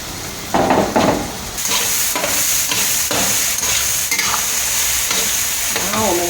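Minced garlic and ginger stir-fried in a wok for spicy soybean paste, with steady close sizzling and the scrape and clack of a spatula stirring in irregular strokes, no talk.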